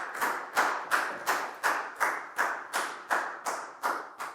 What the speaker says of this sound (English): a big round of applause for Net